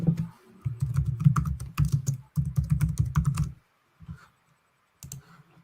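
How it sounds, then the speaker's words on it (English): Close, rapid typing on a computer keyboard comes in quick bursts of clattering keystrokes, pausing briefly and then resuming, ending with a few scattered taps and no talking. "Need to type faster, Alex."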